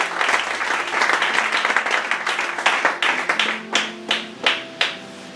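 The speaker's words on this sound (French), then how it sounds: "Clap for Jesus if you are okay." A church congregation claps for Jesus. Dense applause swells at first, then thins to a few separate, sharp, ringing claps spaced about half a second apart, close and fairly loud in a reverberant hall.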